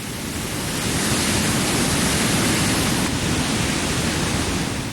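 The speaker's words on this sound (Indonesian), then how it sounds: "Gelombang setinggi 2 meter lebih terus menerjang kawasan selatan Jalan Tempur Sari Lumajang" Waves over two meters high crashing onto the southern Lumajang coast, a loud, continuous roar of surf and wind with no voices.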